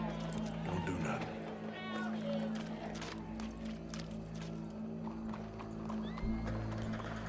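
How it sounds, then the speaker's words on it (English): Horse hooves clip-clop alongside a neigh or whinny, set amid a busy scene at a show with a crowd, under steady background hum and voices. "Go brush that horse, officer."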